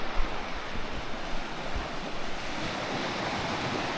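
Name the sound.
sea waves on the coast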